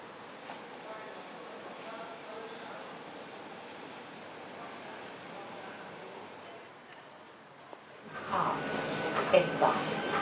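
An S-Bahn commuter train runs with a steady low rumble, then grows abruptly louder and harsher with metallic wheel noise near the end.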